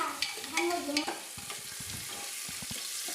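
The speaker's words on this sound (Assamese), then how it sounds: "কেঁচা জলকীয়া এটা দি দিছোঁ, বিলাহীখিনি দি দিছোঁ ইয়াতে, অকণমান লৰাই দিছোঁ" A green chili and tomatoes are stirred in a sizzling pan for chicken pulao, with steady frying hiss and a run of quick, close spatula scrapes and taps.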